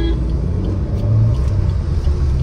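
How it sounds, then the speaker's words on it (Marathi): Heavy road traffic on the old Goa road: a steady, loud low rumble of cars and engines close by, continuous with no clear breaks. "ओल्ड गोवा रोडचं हे पूर्ण ट्रॅफिक आहे"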